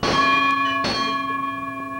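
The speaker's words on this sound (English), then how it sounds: "you might really see a bell this big" A large Swiss cow bell is struck twice, ringing out loud and close with a bright metallic tone whose long shimmering overtones hang and slowly fade.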